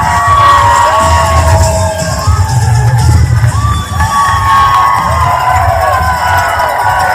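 Roadside spectators at the New York City Marathon cheer and shout in a loud, dense roar, with high whoops and whistles rising and falling close by as runners pass.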